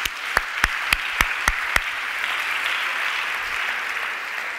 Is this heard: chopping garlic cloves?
no